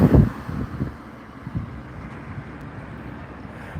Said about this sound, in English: it's always windy in the springtime, March and April in Las Vegas